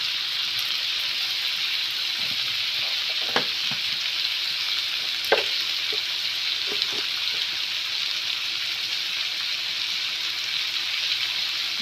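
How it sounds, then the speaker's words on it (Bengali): Turmeric powder and spices sizzling in hot oil for a fish and potato curry, a steady close frying hiss through the whole stretch with a few soft stirring knocks. "একটু হলুদের গুঁড়ো দিয়ে ভেজে নেই তারপর বাকি মশলাটা"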